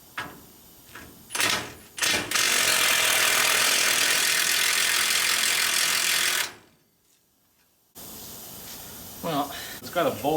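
A ratchet works two nuts loose from the cross member of a 1955 Chevy truck during a restomod. It gives short clicking bursts and then a long, loud, continuous ratcheting run. After a pause, a few more clicks follow.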